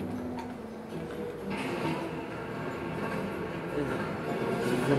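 A subway train in a video game rumbles steadily at moderate level with a faint rhythmic ticking, its noise slowly swelling toward the end, with no clear voices over it.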